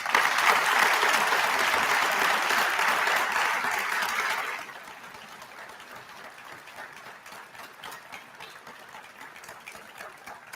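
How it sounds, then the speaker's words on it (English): Audience applause at a police week memorial tribute and awards ceremony, a dense sustained burst of many hands clapping that fades sharply after about four and a half seconds to a thinner, scattered patter. "please join me in a round of applause for all the amazing public servants."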